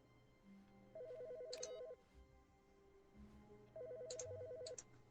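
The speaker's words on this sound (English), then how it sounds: "Oh, there's a phone ringing." In The Stanley Parable, a telephone rings twice in quick trilling bursts, each followed by a pause, quiet and slightly distant with no talking.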